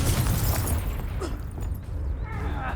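A Bombarda or Confringo spell blast in the Hogwarts Legacy video game: a loud, dense burst of explosive rumble and crackle that fills the moment, then fades into lighter debris and magical whooshes.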